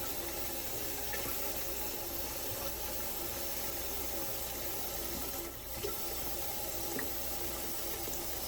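Water runs steadily into a pot for soaking beans, a continuous rushing hiss that barely changes, with one brief dip partway through.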